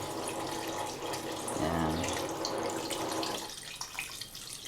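Water from a tap runs steadily into a cooking pot for tinolang manok, a continuous close gush with a gurgling filling tone, and a brief spoken word near the end.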